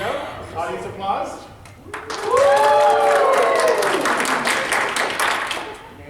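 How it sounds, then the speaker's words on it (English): An audience breaks into loud applause mixed with whooping cheers after a couple of seconds of people talking. The clapping stays strong and sustained to the end. "Okay, here we go. Audience applause."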